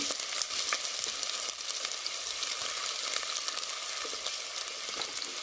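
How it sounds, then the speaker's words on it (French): Onions sauté in two tablespoons of hot oil with a steady, close sizzle and crackle, with no talking. "Je vais maintenant rajouter les oignons, juste les faire sauter."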